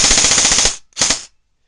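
A Socom Gear DDM4 airsoft rifle fires on full auto: a loud, rapid burst of about 0.8 seconds, then a short pause and a second, shorter burst, with no voices.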